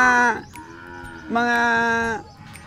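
Goats bleat on a livestock farm where cattle are also kept: two long, loud, wavering harmonic bleats close by, separated by a quieter bleat or low call, with faint farm background noise.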